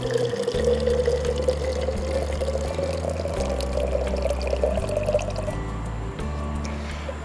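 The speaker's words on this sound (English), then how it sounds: "insert the tip to release the stop ball and drain your sample." Water sample draining from a bailer sampler after the tip releases the stop ball, a steady near pour and trickle of liquid over a low background hum, fading slightly toward the end.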